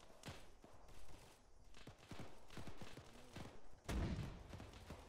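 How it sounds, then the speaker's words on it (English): A volley of gunfire in a war game, with several close, sharp shots in quick uneven bursts over a busy background and a heavy boom near the end, quiet overall. "Firing."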